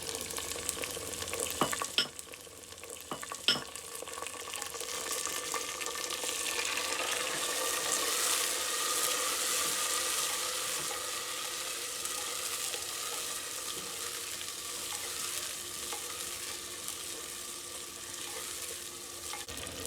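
Tomatoes sizzle in a pan for black lentil maash daal, a steady loud frying hiss lasting throughout with a couple of sharp utensil clinks near the start as they are stirred.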